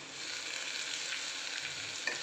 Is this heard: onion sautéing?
yes